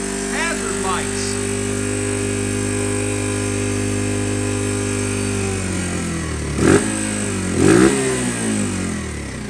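A 2015 Lifan Pony 100cc motorcycle engine runs with a steady mid-pitched drone, then sputters and dies after a few seconds, leaving brief knocks and rustles.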